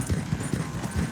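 Horse hooves clip-clop at a steady trot in Red Dead Redemption 2, a rhythmic run of close, fairly loud thuds over a rumbling game background with no talk.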